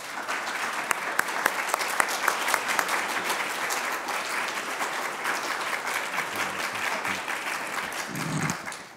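Sustained audience applause welcoming a New Testament scholar, a priest, to the lecture stage, steady dense clapping filling the room for about nine seconds and tapering at the end.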